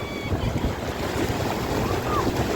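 Sea waves washing onto Tarkarli beach in Maharashtra's Konkan coast, a steady rushing surf with wind buffeting the microphone, continuous and fairly loud throughout.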